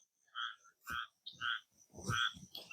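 Frogs croak in the reeds in short, repeated bursts, several calls overlapping in a quiet morning outdoor setting, fairly close and clear.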